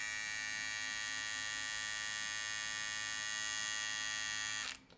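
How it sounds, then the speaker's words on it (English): A cordless Andis Slimline Pro Ion hair trimmer runs with a steady, bright electric buzz that holds constant for several seconds and then cuts off abruptly as it is switched off. "my favorite cordless trimmer right now, which is the Andis Slimline Pro Ion"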